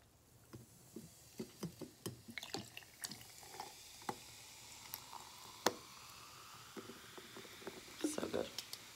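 Fizzy orange drink is poured into a wine glass, giving soft, quiet patter and splashes followed by faint crackling fizz, with small irregular drips and pops at close range.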